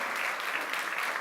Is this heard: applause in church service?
yes